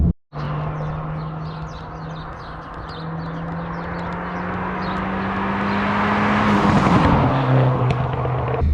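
Stage 1 tuned Fiat Abarth accelerating hard, its engine note climbing steadily in pitch as revs build, loud and close from inside the car, peaking near the end with a gear change.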